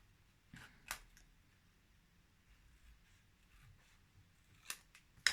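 Scissors snip through paper during a washi tape and paper heart craft, a couple of short crisp cuts standing out against a quiet room, with one more sharp snip near the end.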